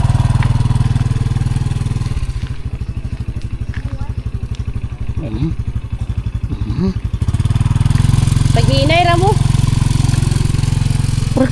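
A motorcycle engine with a ticking, clattering sound idles close by in a steady rapid putter, then swells into a continuous louder drone as the bike pulls away, with people talking over it.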